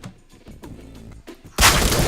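Shotgun fire in a video game: a few soft thuds and clicks, then a sudden loud, wide blast that stays dense to the end, with no talk.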